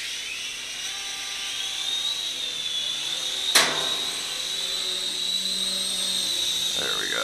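A JunHeng J283 RC gunship drone, modeled on the Avatar Scorpion, whines at a high steady pitch as its rotors spin up for takeoff and flight, loud and close, with a sharp knock midway and faint talk.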